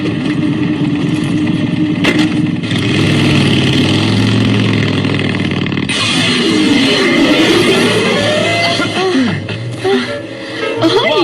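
A motorcycle engine rumbles loudly at idle, then revs up in a couple of rising and falling surges before settling back toward a steady idle.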